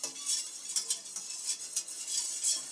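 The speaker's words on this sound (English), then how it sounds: "You can just whisk it around in the pan like this" A whisk scrapes and clinks rapidly against a pan as ingredients are mixed, a steady run of bright metallic strokes close by with no talking.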